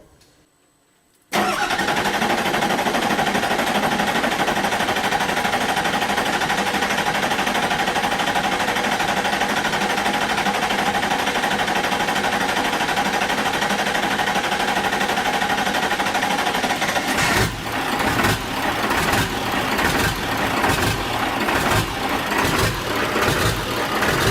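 A 7.3 Powerstroke diesel fitted in a 1972 Mitchell motorhome cranks briefly after near silence, then catches and runs loud and rough. Its uneven idle holds steady, with rhythmic pulsing knocks near the end.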